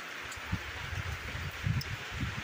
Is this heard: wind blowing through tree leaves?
yes